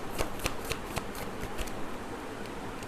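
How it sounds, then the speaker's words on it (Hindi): A tarot card is drawn from a deck: quick crisp flicks and slides of cards in a short rapid series, close and fairly loud, with no voice over them. "बट अभी मैं 1 कार्ड और लूँगी"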